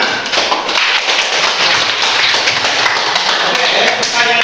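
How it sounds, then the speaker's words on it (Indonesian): Loud, dense applause from a classroom audience at a school event, steady clapping filling the space throughout, close and energetic, with no voices over it. "Baik, tepuk tangan."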